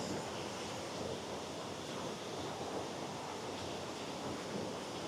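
A waterfall, beside a salmon ladder on a hot day, roars as a steady, dense rush of broadband noise, close and continuous with no break or voices.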